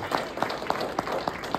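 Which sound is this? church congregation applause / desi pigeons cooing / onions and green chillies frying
church congregation applause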